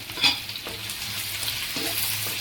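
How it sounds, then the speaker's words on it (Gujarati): Gentle continuous sizzling of green onions frying in oil for eggplant olo, with a few scraping stirs against the pan. "એને પણ આપણે આવી રીતે એકદમ ડાઉન થાય ત્યાં સુધી તળવા દેવાના છે તેલમાં"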